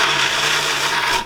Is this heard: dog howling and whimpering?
no